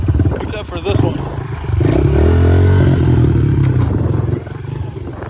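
A Honda 110 motorcycle rides a trail in Quebec, its small engine revving and clattering up close, rising to a sustained loud drone before easing off near the end.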